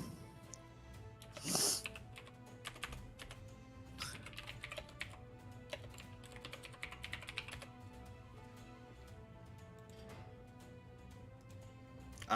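Quiet typing on a computer keyboard clicks in irregular bursts throughout, faint and close, with a soft background hum.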